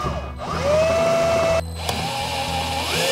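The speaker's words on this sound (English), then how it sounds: "So I'm going to drill this in now," A power drill driving into a water pump installation whirs in short loud bursts, its motor pitch winding up and down across a few spins with a brief pause between, close by and alone.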